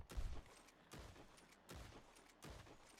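Litchfield repeater rifle shots in Red Dead Online ring out four times at evenly spaced intervals, each a sharp crack followed by a short echoing tail, alone with no talk.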